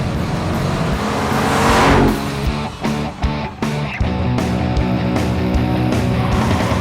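Bone-stock 2012 Ford Mustang GT V8 launching with traction control off and accelerating down a quarter-mile drag strip, loud roaring engine rising through gears with brief shift dips, heard close and steady.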